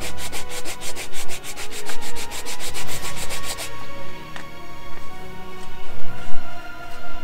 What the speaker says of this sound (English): sand it with lower grit sandpaper afterwards to really get it taken care of